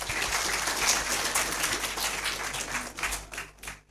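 A lecture audience gives a sustained wash of applause, dense and even, thinning out toward the end.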